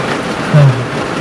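Rain falls steadily at a campsite in Saraburi, a dense, even hiss of drops on surfaces with a brief low rumble partway through.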